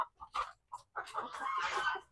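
Egg-laying BPR hens in a small backyard flock give short, close clucks in a broken rhythm, then a longer, busier run of clucking, heard alone.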